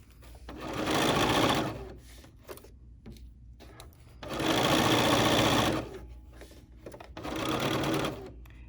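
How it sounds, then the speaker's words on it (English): Sewing machine stitching blouse fabric into a notched dip, running in three loud bursts separated by short pauses with light handling noise. "I'm sewing right into that dip."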